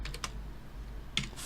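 Several quick keystrokes on a computer keyboard, typed while entering a controller name into emulator settings, clustered near the start and again toward the end, fairly faint and close against a low steady hum.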